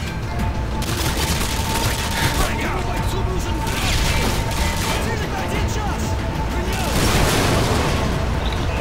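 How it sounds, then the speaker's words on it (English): Gunfire in Modern Warfare 2 Special Ops rattles as a constant, dense barrage throughout, loud and close, with voices faintly beneath the shooting. "Who's shooting us?"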